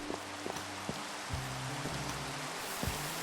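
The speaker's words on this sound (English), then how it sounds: "Let's get rid of this rain because it's annoying me" Steady hissing rainfall in Minecraft during a Gregicality Skyblock game, with faint low tones and occasional soft ticks beneath the continuous patter, no speech.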